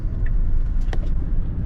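A Tesla Model Y Long Range accelerates onto a highway, with a steady loud low rumble of road and tire noise inside the cabin and a faint electric whine, without engine revving.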